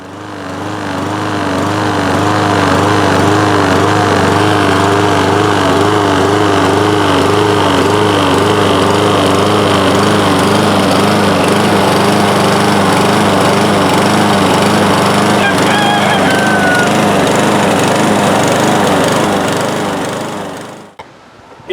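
A warm small engine surges and hunts, its loud, close running note rising and falling in a steady wavering rhythm with no talking, until it cuts off at the end.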